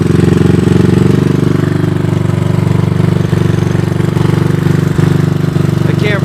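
A 1983 Honda ATC200 all-terrain trike engine runs steadily and close, a loud, even mid-low drone with a rapid pulsing throb that holds throughout, with no talk.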